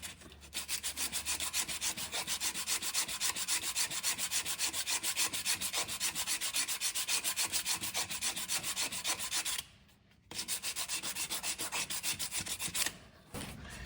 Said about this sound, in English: That's just a block with some 80 grit sandpaper.